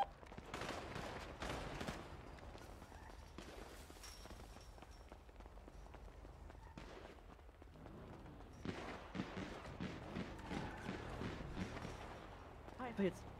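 Gunfire in the video game GTA 5 roleplay, bursts of shots and rapid fusillades mixed with running footsteps, fairly faint, with players shouting over the action.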